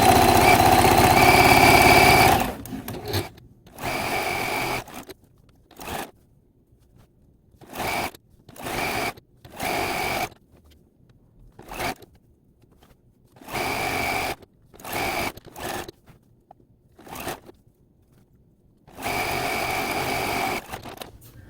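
Sewing machine stitching long sashing rows across a full quilt top, running in a series of separate bursts of a few seconds each with quiet gaps between, steady and close.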